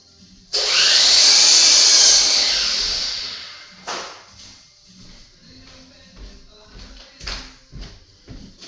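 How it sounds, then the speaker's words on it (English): A hand saw rasps through a wooden piece cut from a cabinet in one loud, sustained stroke, followed by quieter scraping, knocks and handling sounds. "I'm just going to cut off a piece."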